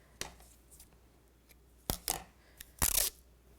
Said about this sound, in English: I'm going to use some of the tape